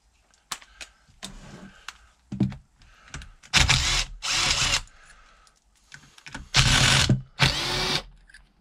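On a 125 cc motorcycle engine, a power tool with an 8 mm socket spins out the clutch pressure plate screws in short bursts of whirring, with clicks and metal handling between each screw.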